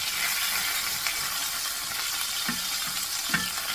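Chicken and vegetables sizzle steadily in a skillet over a hot flame as a spatula pushes them around, with a few soft scraping clunks of the utensil against the pan near the end.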